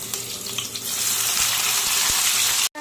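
Ground onion, ginger and garlic paste hitting hot oil with nigella seeds and slit green chillies, a loud, dense, rising sizzle that hisses steadily before cutting off abruptly near the end.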